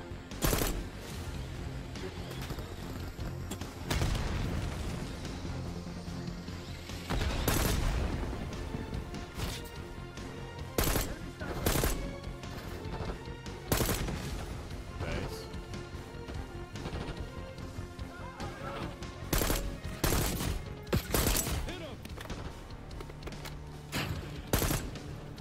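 Gunfire in the video game Call of Duty Black Ops 6 rattles in repeated rapid bursts and single sharp shots, some loud and near, others distant, running throughout with occasional crashes and faint voices mixed in.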